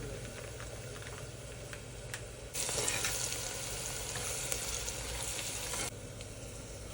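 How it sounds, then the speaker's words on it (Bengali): Chopped onions frying in mustard oil in a pan, a steady soft sizzle that jumps louder and brighter in the middle as they hit the hot oil, then settles back to a gentle crackle. "পেঁয়াজ দিয়ে দিচ্ছি। এটাকে একটু মানে ফ্রাই টাইপের করব।"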